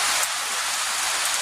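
Heavy rain falls as a dense, continuous bright hiss, close and unbroken, during outdoor work installing fence gate posts, with no voices.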